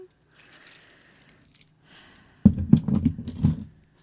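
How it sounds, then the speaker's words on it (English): Truck keys jangle close to the microphone in a short burst of metallic clinks and rattles, preceded by faint scattered taps and brief soft rustling. "That's my truck keys, in case you're wondering."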